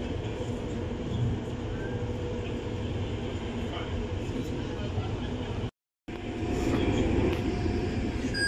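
Inside a moving passenger train, a steady, even rumble and rattle of the carriage continues throughout, broken by one brief silent gap before resuming slightly louder.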